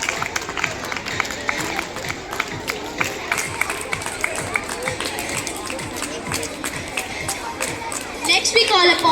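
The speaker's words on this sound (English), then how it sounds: "A big round of applause for her." Applause from a school audience at a primary prize distribution ceremony, dense scattered clapping mixed with crowd chatter and murmuring throughout, swelling louder near the end.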